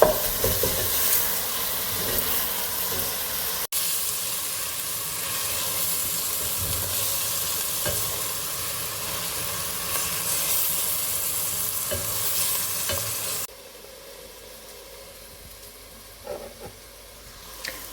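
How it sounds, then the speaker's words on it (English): Chopped bacon sizzles loudly in a hot pan over high heat while being stirred, a steady dense frying hiss with occasional scrapes, dropping suddenly to a quieter sizzle near the end; no talking. "turn the heat up high, and just stand over it for a few minutes, mixing it round, just until your bacon goes a bit see-through and then a bit crispy"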